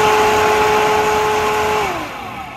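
A Yezdi Adventure motorcycle radiator fan growling with a loud, steady whirring hum as it runs, then winding down with a falling pitch as it is switched off.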